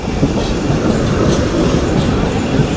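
A passenger train at Akhaura Junction railway station in Bangladesh rumbles loudly and close, its wagons clattering over the rails in a steady dense roar with no voices.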